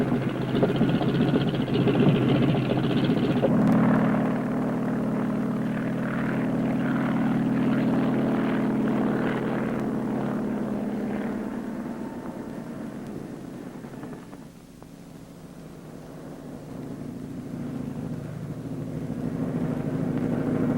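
A Marine helicopter, able to rise and descend straight up and down, flies with a loud, continuous rotor and engine roar that swells and fades slightly as it passes.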